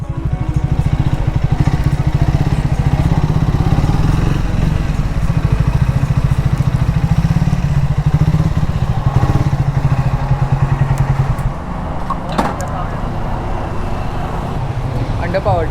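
A motorcycle engine runs steadily with a low, throaty exhaust drone throughout, an exhaust note like a Speed 400, with voices talking over it and a brief clatter near the end.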